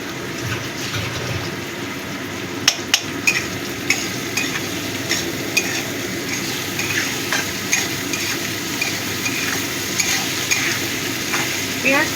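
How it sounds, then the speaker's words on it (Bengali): Chopped onion sizzles steadily in a hot pan while being stirred, with scraping spoon strokes and clicks against the pan over a continuous frying hiss, no talking. "পেঁয়াজ কুচিটা একটু ভেজে নেব।"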